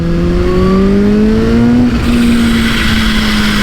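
A Kawasaki H2 motorcycle engine revs at about 30% throttle, sounding loud and close, with a rising tonal whine that climbs steadily before levelling off into a sustained high-pitched drone.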